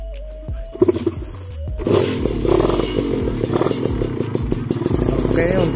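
A Kawasaki Ninja two-stroke motorcycle with an aftermarket exhaust is started up and revved, its sharp crackling blips giving way to a loud, raspy, continuous roar close by, with a voice briefly heard under the engine.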